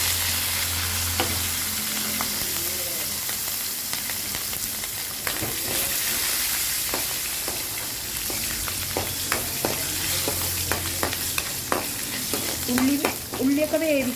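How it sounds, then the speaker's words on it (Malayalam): Curry leaves and green chillies frying in hot oil with mustard seeds and dried red chillies, a steady loud sizzle with scattered pops and crackles throughout, and occasional stirring near the end. "പിന്നെ വേപ്പിൻ്റെ അരിയും പച്ചമുളകും ഇട്ട് കൊടുക്കാം."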